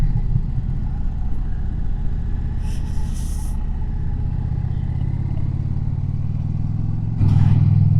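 An Indian Challenger motorcycle's engine drones at a steady cruising pitch while riding normally in standard mode, with a brief hiss midway and a rise in engine rumble near the end.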